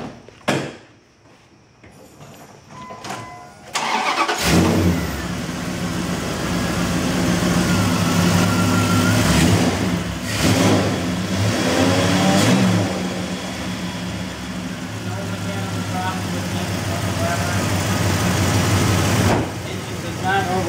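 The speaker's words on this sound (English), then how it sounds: "We're gonna hear it run." A gasoline 360 V8 with a fresh rebuild and a blown transmission cranks and catches after a few quiet seconds, then runs steadily with a loud, even idle and occasional revs, and brief voices over it.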